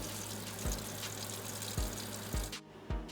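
Tap water runs steadily into a kitchen sink while raw oxtails are washed, a continuous hiss broken by a few low thumps as the meat is handled, fairly close and with no talking.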